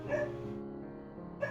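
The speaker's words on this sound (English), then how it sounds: "Sorry about the dog." A dog barks in the background of a room, giving a couple of short, sharp yips near the start and again near the end, moderately faint beneath a steady hum and other household sound.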